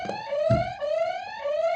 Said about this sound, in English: Again, Akshay beating the buzzer.